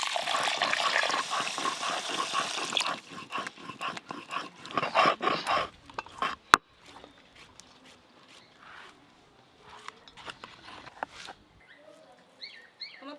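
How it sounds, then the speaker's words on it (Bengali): Water poured from a tap or vessel onto washed rice in a home kitchen to soak it, a loud running splash for about three seconds that fades into quieter clatter and handling noises. "এবার জলটা দিয়ে ভিজিয়ে রাখবো চালটা।"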